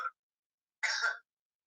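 A man, co-host of a live talk show, coughs: one short cough burst and then a longer throaty cough a moment later, close and fairly quiet, with silence around them.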